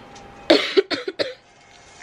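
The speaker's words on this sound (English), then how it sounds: "I cough in all the time too" Woman with a fever and sore throat coughing, a quick close run of four or five harsh coughs in a quiet room.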